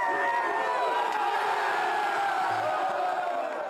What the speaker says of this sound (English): He's doing so in a rugby club dressing room with players and coaching staff cheering him on.